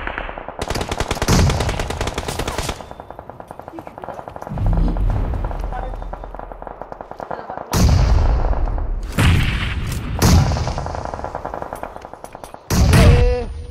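Automatic gunfire bursts in a PUBG scrims match, loud, repeated rattling volleys with sharp single shots and booming hits, some close and some farther off, with voices of players talking in between.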